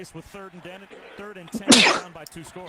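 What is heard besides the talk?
sneeze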